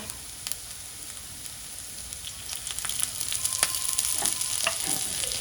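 Banana flower mixture is stirred in a pan as the last water cooks off, a faint hiss that grows into a louder crackling sizzle with light spoon scrapes.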